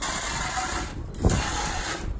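A garden hose nozzle from a 100 ft Higen hose set sprays on its jet setting, a steady loud hiss of water with a brief surge partway through.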